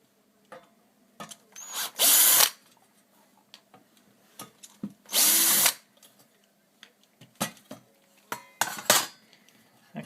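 A cordless drill/screwdriver removes screws during a NIStune Type 2 board installation in a car ECU, giving several loud, short whirring bursts separated by pauses, with small metallic clicks and taps of parts and screws in between.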